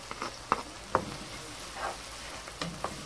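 Garlic ginger paste frying in a pan gives a soft, low sizzle broken by a few quiet scrapes and taps from stirring, with no talking.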